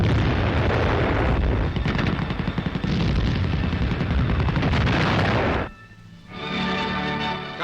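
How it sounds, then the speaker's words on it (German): Enemy artillery fire on a 1941 Eastern Front battlefield near the Dnieper: a dense, continuous barrage of loud booms and rattling blasts that cuts out abruptly near the end, followed by a quieter, steadier rumble. "Feindliche Artillerie versucht, unseren Vormarsch zu stören"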